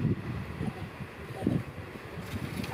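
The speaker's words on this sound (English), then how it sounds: "Ooh, gust of wind just came right there." Gusts of wind buffet the microphone outdoors in a tropical forest setting, heard as soft, low rumbling puffs that rise and fall in uneven bursts, with no voices.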